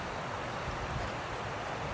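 Steady rushing water fills the scene, a constant broadband roar of a waterfall pouring into a river at Metal Ford on the Natchez Trace Parkway, close and continuous with no voices.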